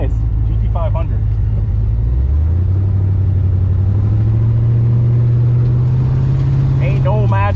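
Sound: Ford Shelby GT500 car engine

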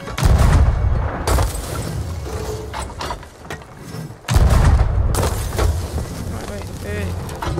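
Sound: cannon firing in video game Sea of Thieves

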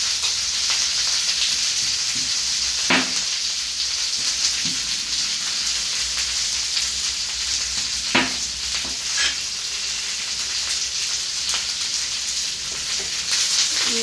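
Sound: crushed garlic sautéing in a pan

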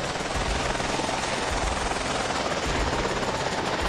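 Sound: helicopter in the video game Sakura School Simulator

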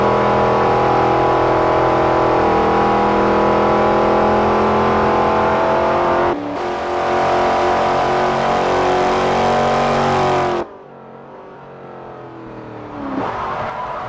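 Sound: 2012 Chevrolet Camaro ZL1 test lap in video game Forza Motorsport 4

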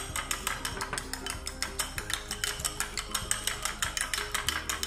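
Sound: beating eggs with salt and pepper using a spoon

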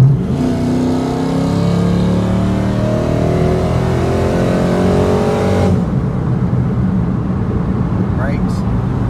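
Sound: LS-swapped Chevrolet Colorado truck racing a Nissan Maxima

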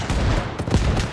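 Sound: gunfire and explosions in Arma Reforger video game

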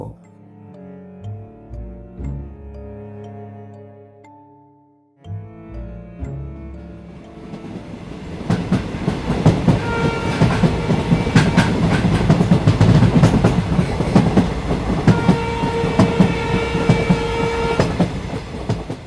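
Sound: train running sound effect

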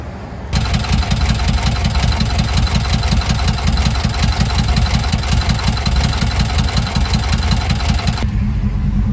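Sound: Volkswagen Kombi engine making loud noise

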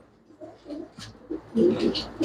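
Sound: pigeons cooing

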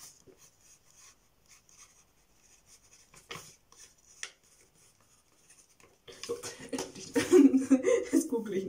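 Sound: writing a note down

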